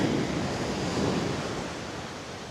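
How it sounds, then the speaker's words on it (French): Strong ocean waves surge and crash on a Kerala beach, a loud, roaring wash of surf mixed with wind rumble that swells early and then gradually eases off, with no voices. "Il y a des vagues un peu dures ici."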